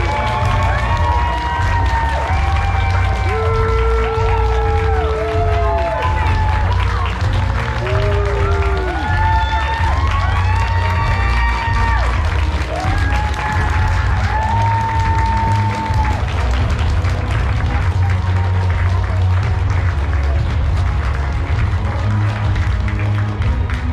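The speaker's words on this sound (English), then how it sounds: "Round of applause for Niles and Michael, newly engaged right here at Trotcon 2023" Sustained applause and cheering from a convention crowd at a charity auction celebrating a newly engaged couple, loud and continuous, with excited shouts and voices rising over the clapping throughout.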